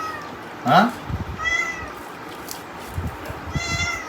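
A house cat gives several short meows, one louder near the start and fainter ones later, while a person talks quietly in the background.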